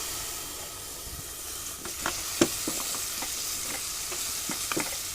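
Masala for a mutton kurma with tomatoes and a little curd sizzles steadily in a pan, with scattered scraping stir strokes and small crackles standing out against a constant frying hiss, no voices.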